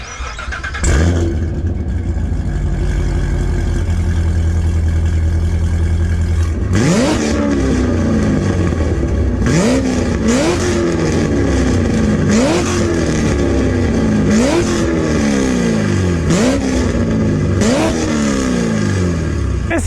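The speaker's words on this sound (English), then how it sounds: "And now this is how this full bolt-on C7 Z06 sounds." A modified full bolt-on Chevrolet C7 Corvette Z06 rumbles at a loud, close idle, then its engine and exhaust are revved hard about half a dozen times in quick rising bursts, each falling back between blips, with no talking.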